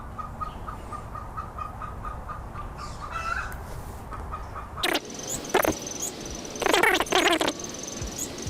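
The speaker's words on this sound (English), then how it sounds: "Bloody chickens." Neighbours' chickens clucking and squawking nearby, starting as faint background calls and breaking into several loud, sharp bursts in the second half.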